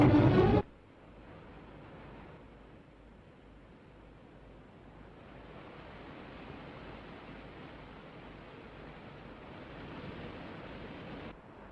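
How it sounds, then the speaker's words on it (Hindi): A waterfall's steady broadband rush fills the background, faint and distant, continuous after a brief louder burst at the start, with no talking over it. "झरने की आवाज आ रही है।"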